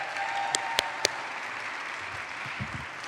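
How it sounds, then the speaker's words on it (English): Sustained applause from a gala audience at a 35th anniversary celebration, a steady dense wash of clapping with a few sharper claps standing out near the start. "Let's give her a big round of applause."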